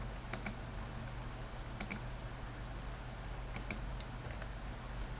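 Typing on a computer keyboard while entering a date: a few sparse, faint keystroke clicks spaced a second or more apart over a steady low room hum, with no voices.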